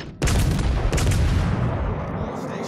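Heavy artillery fire in a war video game, a sustained loud roaring barrage of booms and blasts with a fresh heavy hit partway through, rumbling on without pause.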